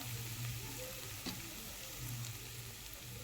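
Chopped coconut, garlic, ginger and coriander sauté in a pan with a soft, steady sizzle that holds evenly throughout, heard faintly at a distance with no voices.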